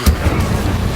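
A fire spell is cast in the Hogwarts Legacy video game, giving a short, deep whooshing burst that thumps at the start and then settles into a low rumble within a second.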